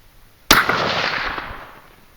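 A single sharp .308 rifle shot fired from a Savage Axis-style Compass rifle with Hornady SST bullets, a loud outdoor crack followed by a long rolling echo that fades over about a second and a half.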